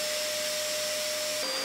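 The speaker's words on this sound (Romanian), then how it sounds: "acest aspirator are suficientă putere de aspirare pentru utilizarea în gospodărie" A Parkside PWS 20 C2 wet and dry vacuum cleaner runs with a steady motor whine and airflow rush, its pitch dropping slightly near the end.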